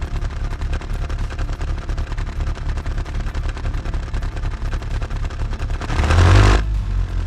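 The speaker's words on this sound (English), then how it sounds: "the engine sounds very very loud" A Daewoo S-TEC II 1.0L engine tuned for high RPM in the Automation game, a loud rapid buzzing rattle revving continuously, swelling into a brief louder roar near the end.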